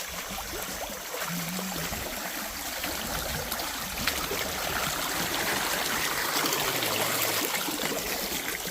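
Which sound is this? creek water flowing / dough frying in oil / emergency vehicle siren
creek water flowing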